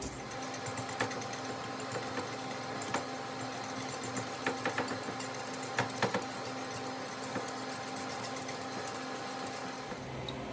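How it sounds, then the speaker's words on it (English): A blender motor runs steadily, creaming smoked trout dip into a smooth sauce, a continuous whirring drone with faint knocks and rattles throughout. "Now we're just going to blend this till it's smooth"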